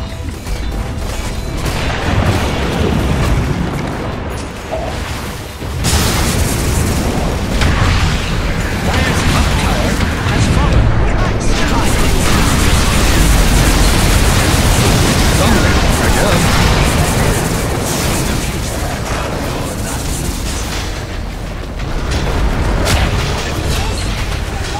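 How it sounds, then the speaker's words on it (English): Explosions and booming attacks on a tower in the video game Dota 2, a dense, loud, continuous barrage of blasts and clashing effects, with a voice announcing over the din. "Dire's top tower is under attack."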